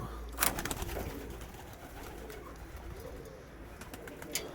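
Soft pigeon cooing from a pigeon loft murmurs low in a steady outdoor ambience, with a few brief rustles and taps near the start and end.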